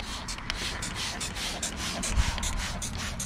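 Close, steady scrubbing on an aluminum boat hull to remove grime, with repeated brushy strokes in a loose rhythm at moderate loudness and no talking.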